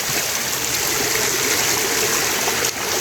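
Clear water rushing down a small mountain waterfall in the hills of Khlong Prap subdistrict, a steady, close, full wash of splashing flow that carries on unbroken with no talk.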